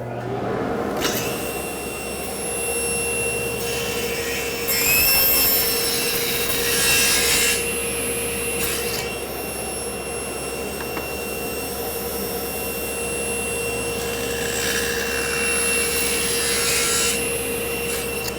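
Handsaw cuts steadily through 3/4 inch wood for a corner bridle joint, with a loud, continuous rasping stroke and brief pauses between passes.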